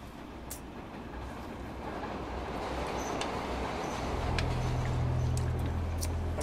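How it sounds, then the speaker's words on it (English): A subway train, the 5 train, rumbles past with a rising roar and a deep low-end surge that peaks near the end, with faint metallic clicks and squeals above. "I hate that five train"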